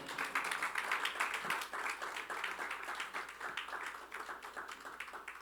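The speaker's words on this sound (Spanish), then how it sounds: "Denle un fuerte aplauso al Señor." A church congregation applauding, dense sustained clapping from many hands filling the room at an even level for several seconds.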